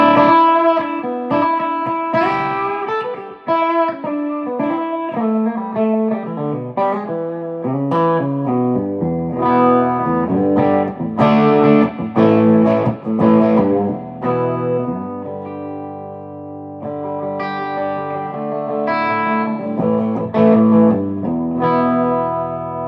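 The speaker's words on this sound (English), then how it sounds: "Saturated drive, right? Let's do like a Klon style." An electric guitar played through a saturated Klon-style overdrive picks a bluesy melodic line of sustained, singing notes and bends, loud and alone with no talking.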